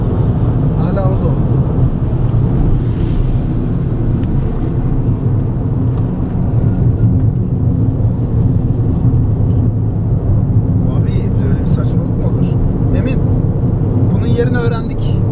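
A BMW 130i circles the İstanbul Park race track, its engine a steady droning roar heard from inside. People talk over the noise throughout.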